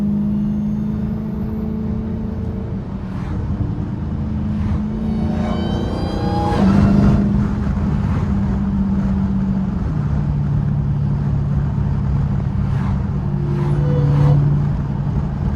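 A Dodge Hellcat's engine hums steadily from inside the car on a back road, a low drone that swells briefly as it accelerates, then settles into cruising.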